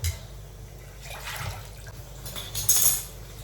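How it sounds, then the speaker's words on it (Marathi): Thick-cut slices of peeled elephant foot yam are rinsed in water in a home kitchen, giving soft, low sloshing and trickling with a couple of brief splashy surges near the end. "मी आधीच त्याला सोलून स्वच्छ धुवून ठेवला होता, पण परत एकदा त्याला आपण धुवून घेऊया."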